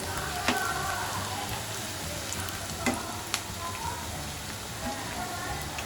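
Chicken kofta balls fry in hot oil until golden brown, giving a dense, even hiss with a few sharp crackling pops, heard up close.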